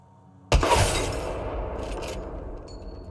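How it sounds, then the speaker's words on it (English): An Apex Legends headshot hit lands amid gunfire, a sudden sharp crack with a bright shattering edge that decays into rumble, followed by a few faint metallic clinks. "If you listen to Apex's sound, it's a lot more subtle, yet you can still hear it against the gunfire."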